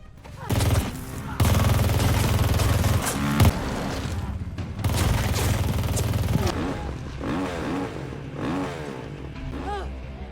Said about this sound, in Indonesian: Suara tembakan Benny menarik perhatian Peck, yang mengendarai motor.